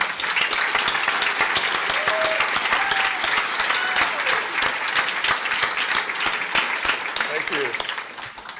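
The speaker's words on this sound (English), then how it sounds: "How about we give a round of applause to everybody in the Angular community?" Conference audience applauding a round of applause for the Angular community at an ng-europe keynote, dense steady clapping filling the room for about eight seconds before tapering, with a brief spoken thanks over it.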